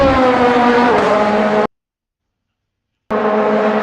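A race car at Sebring in a sim racing game roars past with a loud, harmonic engine note that shifts in pitch, cut off by a silent gap before the engine sound resumes.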